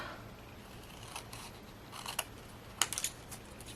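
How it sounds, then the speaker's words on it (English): Scissors snipping through a paper pad sheet while trimming off excess for an envelope, a few quick, crisp cuts close by, with a cluster of sharp snips near the end over a quiet background. "Just going to cut off all the extra. Snip, snip."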